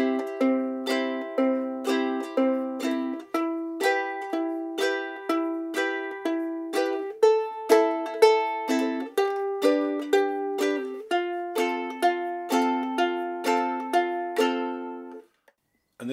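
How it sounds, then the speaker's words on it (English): Ukulele plays a song's eight-bar chord sequence slowly, single root notes alternating with strummed chords in a steady reggae-style pattern, clean and close with no talking. "so the whole 8-bar sequence played slowly, picking the root notes of each chord on beats 1 and 3 of every bar and strumming the chord on beats 2 and 4"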